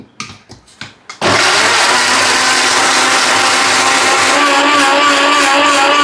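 A mixer grinder grinding ginger into paste starts after a few light knocks and then runs as a loud, steady whine that continues alone to the end.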